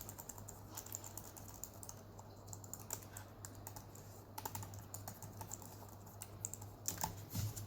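Keys on the Honor Pad V9 tablet's detachable keyboard being pressed in a steady run of quick, light taps for several seconds, close and quiet with no talking.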